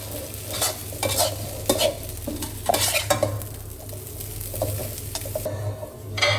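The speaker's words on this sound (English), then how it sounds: "Add the green onion and mix in well." A spatula stirs Thai glass noodle stir-fry with green onion in a pan: repeated clattering scrapes and metal knocks in an uneven rhythm over a constant sizzle, close and moderately loud, easing off near the end.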